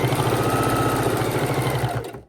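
A sewing machine stitches quilt binding in a steady, rapid mechanical whir with an even rhythmic chatter, running continuously up close before stopping abruptly.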